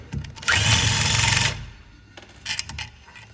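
Power tool tightening bolts on a Kawasaki motorcycle swingarm, a loud whirring burst of about a second followed by a couple of short quieter buzzes, close up.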